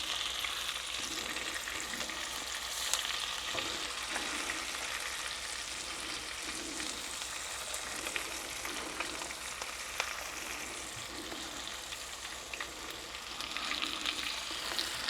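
A tomahawk ribeye steak sears in a hot pan, giving a dense, even sizzle that holds steady throughout with faint crackles and no one speaking.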